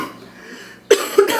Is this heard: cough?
yes